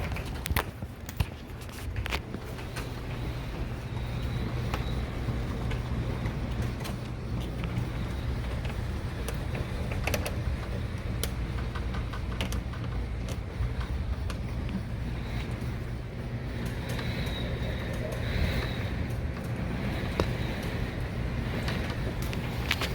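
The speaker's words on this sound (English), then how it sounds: "The wind's still coming out of the east-northeast. It's kind of shifting due east at this point" Steady, heavy roar of Hurricane Sally's wind buffeting a window on Dauphin Island, Alabama, with constant low rumble and occasional sharper gusts and knocks throughout.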